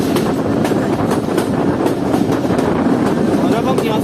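Jaffer Express passenger train with three engines running on rails toward Quetta, a steady loud rumble with rhythmic clickety-clack over the joints and wind buffeting, heard from on board.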